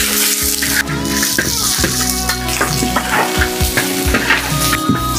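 Beef steak frying in hot oil with ginger and garlic in a village kitchen, a loud, steady sizzle throughout with intermittent stirring clatter and scraping close by.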